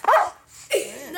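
Dogs in the game Caverna Online bark a couple of times in quick succession, close and loud, with a short pause between the sharp yelps.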